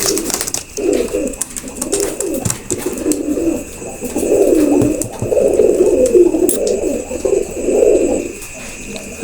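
Several pigeons kept for sale coo in a soft, rolling chorus close by, their low, throaty calls overlapping almost continuously, with faint background hiss.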